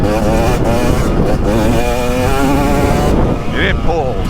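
A 2023 KTM 300XC TBI two-stroke dirt bike engine revs hard and loud up close, its pitch rising and falling in pulls through the gears before dropping off near the end.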